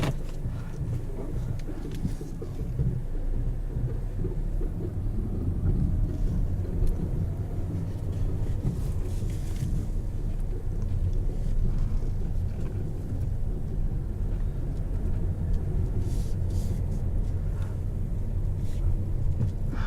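Steady low rumble of a 2018 Mazda6 Turbo Signature driving, heard from inside the cabin, with continuous road and engine noise throughout and no talk.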